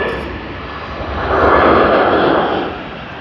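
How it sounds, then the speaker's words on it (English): A Boeing 787 airliner arriving at Sydney Airport from San Francisco produces a broad jet roar that swells to a peak midway, then eases slightly as it passes nearby. "Boeing 787 coming in from San Francisco, California"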